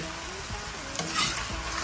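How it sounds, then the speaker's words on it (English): Mushrooms and onions sauté in olive oil in a pan that still holds meat drippings, a steady close sizzle with stirring scrapes over it, no talk. "To saute the mushrooms and onions"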